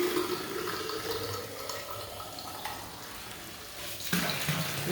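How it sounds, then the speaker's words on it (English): Holy mountain spring water on Mt. Oyama, Japan, pours into a container as a steady, close rushing flow that shifts slightly in tone near the end. "we're going to fill up this holy water"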